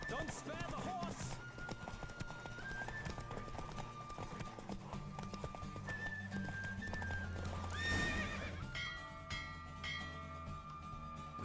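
Horse hooves clip-clop at a steady gallop in the video game The Witcher 3 over a game soundtrack with sustained tones, and a horse whinnies briefly near the end.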